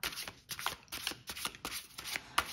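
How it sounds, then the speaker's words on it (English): Tarot cards are shuffled by hand close up, a quick run of crisp riffling and flicking bursts with short pauses between them, and nobody speaks. "So I'm shuffling the cards here."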